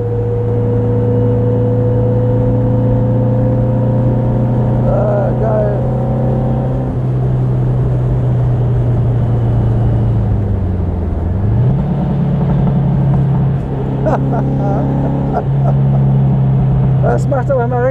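A tuned 1957 Porsche 356 Speedster engine drones loudly from inside the car on a mountain drive, a steady humming tone that dips and rises again around a gear change, while someone talks over it.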